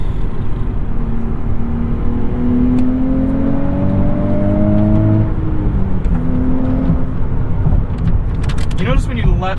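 A 2023 Nissan Z with six-speed manual gearbox accelerating, engine tone rising steadily through a gear under cabin road noise, then easing off; people talk over it.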